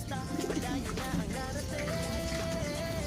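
Racing pigeons coo softly amid a busy outdoor background, with faint bird chirps mixed into steady ambient noise.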